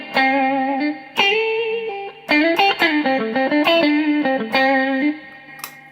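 Lightly driven electric guitar on the neck pickup plays a phrase of picked notes and short chord stabs, with crisp attacks, gaps between bursts and a touch of crunch, no talking.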